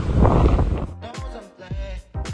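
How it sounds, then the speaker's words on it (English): Strong wind buffets the microphone at the Scarborough kite surfing beach on the Cape Peninsula in a loud rushing gust, followed by gusty bursts. "The beach here is extremely windy and perfect for kite sailing."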